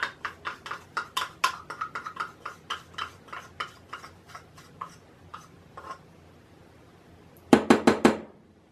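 A spoon scrapes and taps chocolate out of a cap into a cauldron, a run of quick, light clinks that slows and fades, then a final cluster of sharper, louder knocks near the end.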